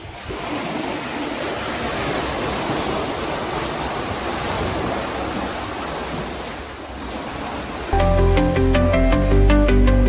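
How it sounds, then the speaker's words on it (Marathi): Sea waves crash and splash up against the end of a rocky shore at Velneshwar beach in Ratnagiri, a continuous loud roar of surf with wind buffeting the microphone, swelling louder toward the end. "इथून पाणी आपटल्याने असं वर उडतं."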